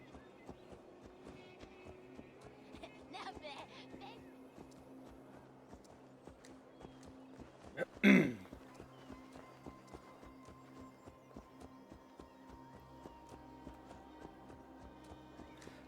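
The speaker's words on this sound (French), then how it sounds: "Il veut pas galoper le cheval, le Zabi?" A horse walks at a slow pace in the video game Assassin's Creed Valhalla, its hooves clip-clopping in a quiet, steady rhythm, broken by one brief louder burst midway.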